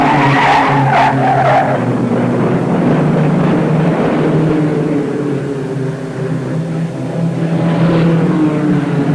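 Stock cars spinning out on a circular racing track in Winchester, Indiana, loud tire skidding and squealing over roaring engines, with close engine noise sweeping past.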